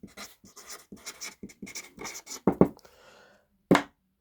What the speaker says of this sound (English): So you're gonna start by drawing your rectangle like this